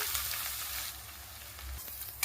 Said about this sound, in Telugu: ఆనియన్ ఫ్రై అవుతుంది కదండి